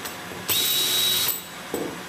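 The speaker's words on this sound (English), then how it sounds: "and drilling until I see a little bit of brass shaving" A power drill bores into brass square-drive plank fasteners on a 1953 Shepherd Sportsman boat, one close, loud, whining burst under a second, then a short trailing bite of the bit.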